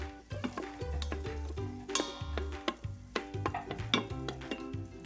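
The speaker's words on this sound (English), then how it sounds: "You can start to hear it sizzling a little bit here." Pan stirring and scraping over a low, steady sizzle of tomato and anchovy paste frying in a pot, with repeated utensil knocks against the pot and tonal music underneath.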